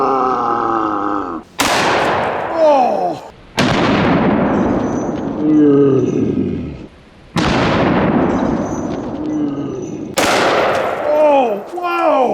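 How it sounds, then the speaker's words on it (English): A 500 Magnum snub-nosed revolver fires at cans of gravy: four very loud, sharp blasts spaced a few seconds apart, each ringing out with a long echoing decay, while people talk and exclaim in between. "now we're gonna shoot a few cans of gravy"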